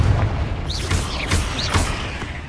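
A Confringo spell explodes in Hogwarts Legacy as a series of low booms and crackling bursts, several in quick succession, loud and close.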